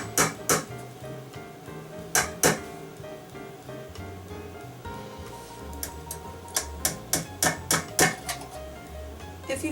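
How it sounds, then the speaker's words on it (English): Nails being tapped into the existing holes of a Studio 49 glockenspiel frame, sharp close knocks in uneven clusters, with a quick run of evenly spaced taps near the end. "You should be able to just put these in the existing holes and give them a few taps."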